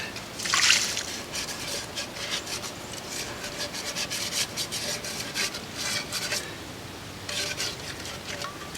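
A horsetail reed scrubs the greasy inside of a pot that has been cooked in, making a steady, close rasping and rubbing with a brief louder scrape near the start and continuous strokes throughout.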